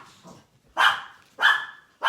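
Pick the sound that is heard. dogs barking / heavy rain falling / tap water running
dogs barking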